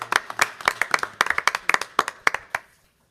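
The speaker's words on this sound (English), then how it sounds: "let's give Jackson a round of applause." Sparse clapping at a school board meeting for a recognized student, a small scattered group of hands producing distinct sharp claps in an uneven rhythm that stops abruptly, leaving near silence.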